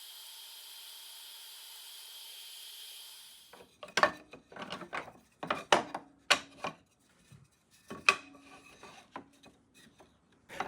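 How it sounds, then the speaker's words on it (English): A new Rutlands cordless mitre saw cutting half lap joints in wood gives a steady whirring, hissing cut for about three seconds. It stops abruptly, then loose knocks, taps and clattering follow as the wood is handled. "the depth of cut can be set using this thumb wheel, so I thought I'd try out a couple of half lap joints"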